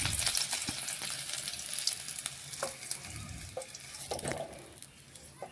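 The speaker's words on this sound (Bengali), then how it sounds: "আলুগুলো এখন তেল থেকে তেল ঝরিয়ে তুলে নিচ্ছি" Fried potatoes lifted and drained out of hot oil in a pan, a loud continuous sizzle with scattered clinks and scrapes of a slotted spoon, fading slightly toward the end, no voices.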